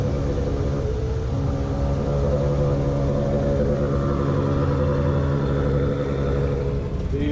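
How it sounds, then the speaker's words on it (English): Ferrari 430 Cup race cars at a Cavallino Classic Ferrari event, a deep continuous engine rumble with rising and falling revs, loud and sustained throughout with no voices heard. "These cup cars are just 430. They just sound pretty amazing."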